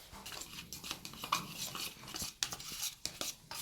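Filipino whitening powder and serum stirred together in a container, a busy run of scraping, clinking utensil strokes in an irregular rhythm, close and fairly clear with no talking.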